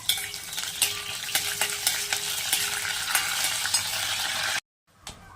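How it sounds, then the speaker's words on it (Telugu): Curry leaves, seasoning seeds and fenugreek frying in hot oil for a tomato egg curry, a close continuous crackling sizzle with a few stirring knocks before it cuts off abruptly. "కరివేపాకు, కొంచెం తాలింపు గింజలు, కొంచెం మెంతులు వేసి కొంచెం వేగనివ్వాలి."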